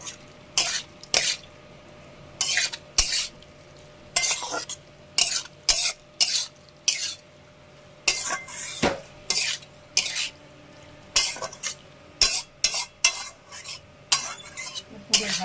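Steamed taro stolons being stirred and fried in a pan of cooked spices: repeated sharp scraping strokes of a spoon against the pan in a steady rhythm over a faint sizzle, close, with no talking.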